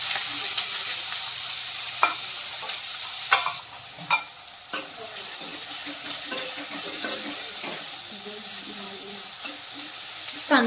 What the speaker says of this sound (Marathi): कांदा फ्राय करून घेऊया।